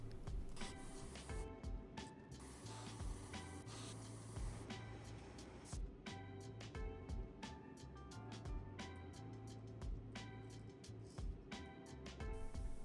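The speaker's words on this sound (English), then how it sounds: "I'm just going to spray this around the eyes and gills." Repeated bursts of aerosol paint spraying onto a fishing lure, short hissing blasts one after another, close up and steady over a low background hum.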